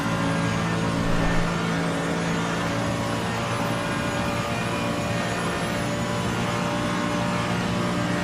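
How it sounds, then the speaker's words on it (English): Race car in the Assetto Corsa Competizione sim at Paul Ricard accelerating on a long straight: a steady, loud, high-pitched engine drone holding near top speed with little change, no talk over it. "And on the throttle we go, onto the long straight again."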